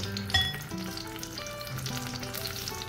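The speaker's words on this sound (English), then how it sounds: "we're going to take a tortilla, dip it in our sauce," A tortilla dipped in sauce frying in hot oil in a pan, a steady close sizzle throughout with no talking.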